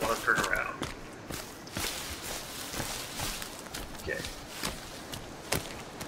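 Footsteps in the Sons of the Forest video game, soft irregular steps in a forest setting, fairly faint under ambient background.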